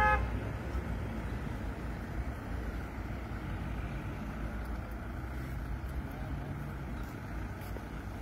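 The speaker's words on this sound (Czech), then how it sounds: "Tak už tu přichází troubení." Drivers sound their car horns at climate activists glued to a road in Mladá Boleslav. A short horn blast comes at the start, followed by a steady rumble of traffic.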